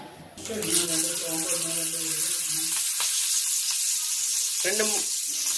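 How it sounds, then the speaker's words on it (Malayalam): Kerala-style fish dropped into hot oil for deep frying bursts into a loud, close, continuous sizzle, with brief stirring or clatter along the way. "ഓയിലൊന്ന് നല്ല ചൂടായിട്ടുണ്ട്. ഇപ്പൊ നമുക്ക് മീന് അതിലേക്ക് ഡീപ്പ് ഫ്രൈ ആക്കാം."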